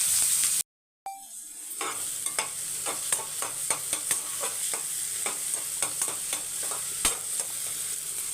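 A large onion drops into hot groundnut oil. After a short silence a continuous sizzle builds, with regular sharp crackles and spatters, close and steady, and no voice.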